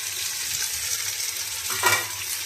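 Onion and tomato sizzle loudly in a pan while being stirred, a dense continuous frying hiss with a brief scraping flare near the end.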